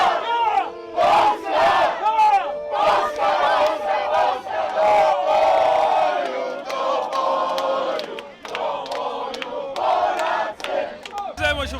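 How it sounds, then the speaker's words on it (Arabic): Saudi football fans outside a World Cup stadium chant loudly in unison, rhythmic shouted phrases repeating in bursts, with crowd cheering close by and brief pauses between chants. "زي ما شفتوا أجواء الجمهور السعودي عند الملعب"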